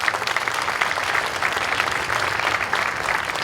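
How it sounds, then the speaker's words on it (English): Audience at a college humanities building ribbon cutting ceremony applauds its speakers, dense, loud clapping sustained throughout. "how about a round of applause for all of our speakers?"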